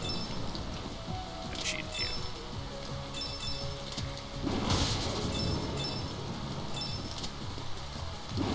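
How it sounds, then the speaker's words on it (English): Rain in the video game Freedom Planet, a steady wash of falling rain filling the background, with a few brief clinks and a louder burst partway through. "Rain."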